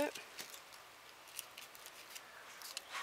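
Scissors snip two small white flowers while assembling a wheel decoration, giving a few quiet, close clicks and cuts against faint background noise.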